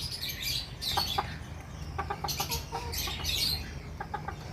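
Several chickens cluck in short, repeated bursts over a steady low background hum, fairly close and moderately loud.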